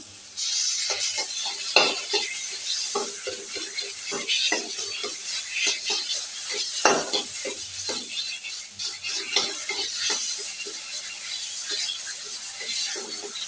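Food being reheated in a pan sizzles steadily while a utensil stirs and scrapes against the metal in irregular, clattering strokes, close and fairly loud throughout.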